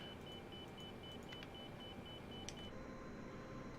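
A warning alarm in a cargo aircraft cockpit: rapid, evenly spaced high beeps repeat steadily for several seconds, then stop, leaving a quiet, low background rumble.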